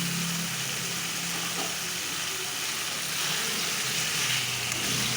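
Pre-fried eggs dropped into a pan of sizzling spicy red masala for egg curry, giving a continuous, close, hissing fry that stays steady and even with a faint stir or two beneath.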